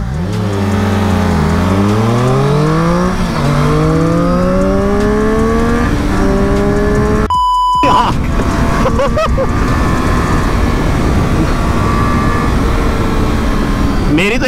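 Triumph Street Triple RS and Kawasaki Ninja 1000 motorcycles in a drag race, exhausts roaring loud and close as revs climb in repeated sweeps through gear changes, with a brief dropout midway before the engines drone on.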